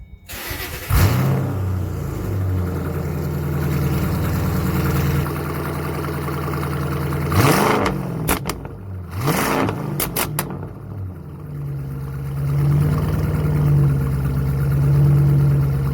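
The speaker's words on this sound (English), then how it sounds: "We'll do a couple of revs on it just so you can hear it." A car with a stock exhaust and a muffler delete cranks and starts, then idles loudly nearby. Two sharp throttle revs climb and drop back, and a steady rumbling idle follows.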